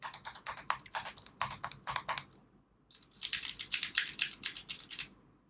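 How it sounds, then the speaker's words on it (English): Typing on a Keychron mechanical keyboard, with rapid, crisp, clacky keystrokes close up in two bursts split by a short pause, alone without talk. "Now, see, when I type."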